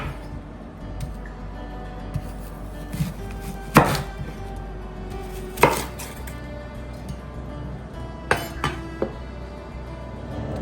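A knife chopping onion into chunks for ground turkey chili, with a few sharp, separate cuts on a board spaced several seconds apart over a low background hum.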